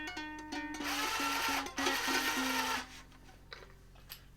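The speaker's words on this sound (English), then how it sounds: "I'm going to loosen these strings." Guitar strings being loosened with a tuning crank, a close rapid whirring ratchet lasting about three seconds, the string's pitch sliding down in stepped bursts before fading to quiet handling taps.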